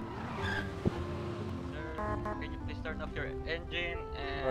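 A car engine idles and hums in GTA V during a police roleplay traffic stop, with tires squealing briefly. Voices talk over the steady motor noise throughout.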